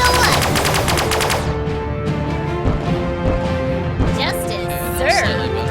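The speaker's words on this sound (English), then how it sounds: "Firing ordnance" Starship weapons fire ordnance in a space battle in the Sunrider video game, a dense burst of rapid, gunfire-like shots over a steady bed of game music and effects.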